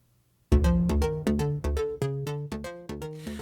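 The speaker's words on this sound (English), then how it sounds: "So I've lowered it 11 semitones, and now it sounds like this." Pitched-down percussion hit sample, lowered eleven semitones in Pro Tools and played as a repeating sequence of about a dozen loud, resonant tonal strikes with ringing overtones, alone with no talking.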